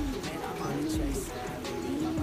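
Off-color racing pigeons cooing close by inside a loft, giving soft, repeated low coos over a steady background murmur, with someone talking faintly among the calls.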